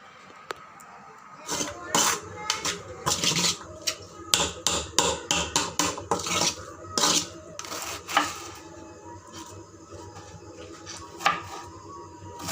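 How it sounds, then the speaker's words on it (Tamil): A spoon stirs samosa vegetable filling seasoned with garam masala in a pan, clanking and tapping against the metal. The scraping clatter comes in busy, uneven bursts and then thins out into occasional knocks. "கரம் மசாலா, எல்லாம் நல்லா மிக்ஸ் பண்ணணும்."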